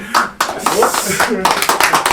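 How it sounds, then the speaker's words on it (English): A podcast host's hands clap several times in quick succession close to the microphone, sharp bright smacks in an uneven rhythm, with talking before and during. "I'm clapping at the good questions."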